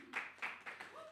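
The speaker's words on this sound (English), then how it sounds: "Can we clap hands for her?" Brief, soft patter of audience hand clapping, a few distinct claps in quick succession, faint and distant.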